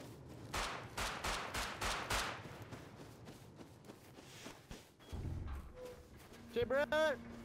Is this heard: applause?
no